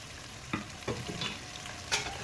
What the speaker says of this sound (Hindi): मसाला फ्राई हो गया